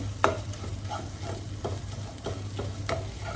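Grated ginger sautéing in a pan makes a steady low sizzle, broken by regular scraping strokes from a spatula stirring it, close up and without speech.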